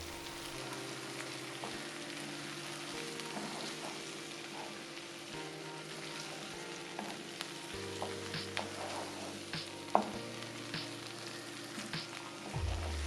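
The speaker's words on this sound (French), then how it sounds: "On ajoute la pâte de tomate. On mélange." Tomato paste is stirred into a frying beef soup base for a Caucasian beef soup, and the pan gives a quiet continuous sizzle with soft scraping and a few faint clicks. A low hum runs underneath.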